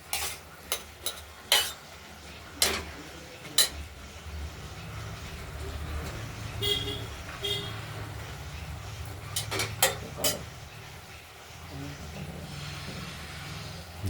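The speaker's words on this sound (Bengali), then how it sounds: "লাউগুলোকে আমরা একটু নাড়াচাড়া করে দিচ্ছি" Bottle gourd is stirred in an open pan for a gourd dish with bori and coriander leaves: a soft sizzle under repeated sharp spatula scrapes and clanks against the metal, with a voice talking faintly in places.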